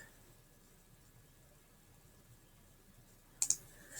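A computer mouse gives a quick double click near the end, crisp and close, after several seconds of faint room hiss.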